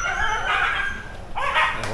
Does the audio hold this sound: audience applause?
no